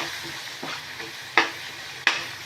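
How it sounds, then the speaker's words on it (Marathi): Spices such as cumin powder, asafoetida and ginger-garlic paste sautéing in oil with onions for a dry cauliflower dish, a steady soft sizzle with a few sharp spatula scrapes standing out near the end. "आता हे मसाले छान असे तेलावर कांद्यामध्ये परतून घ्यायचे"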